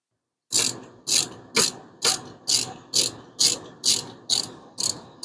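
A ratchet tightening rocker shaft bolts on a 5.7 Hemi V8 in a Plymouth Duster build gives ten loud, close, evenly spaced clicking strokes, each a rasping burst of about half a second.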